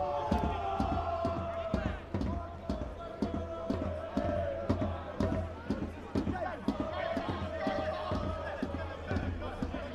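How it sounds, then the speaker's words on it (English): Home crowd at a Canberra Croatia v Avondale Australian Championship soccer match roars and chants with steady rhythmic claps or drum beats, a broad loud wall of sound with a commentator talking over it. "Feels like the crowd's picked up when they know their team needs a boost and needs a lift"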